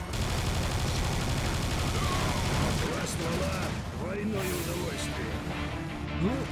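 Turrets fire in the video game Serious Sam 2, a dense loud barrage of rapid gunshots for several seconds that thins out as someone talks over the remaining shots.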